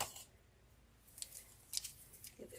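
Scissors snip off excess material from a faux beehive cupcake decoration, giving a few faint, quick cuts spaced apart over a quiet background.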